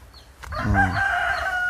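A farm rooster crows once, loud and close, with a long drawn-out call that holds steady to the end, set on a mixed mushroom and livestock farm.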